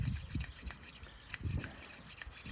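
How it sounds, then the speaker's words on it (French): Hands rubbed briskly together during a qigong exercise, a close, rhythmic dry friction of skin on skin repeating several times without speech. "Maintenant, on va frotter les mains."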